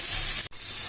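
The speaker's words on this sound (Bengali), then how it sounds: "তো আমি এটা ভাজছি, লাল হওয়া পর্যন্ত আমি এটাকে ভাজতে থাকবো" Onion, garlic, green chili and shrimp frying in a pan give a dense, steady hiss of sizzling oil, loud and close, broken by one very brief gap.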